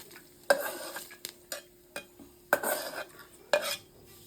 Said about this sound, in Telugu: మా హస్బెండ్ అక్కడ తాలింపు వేస్తున్నాడు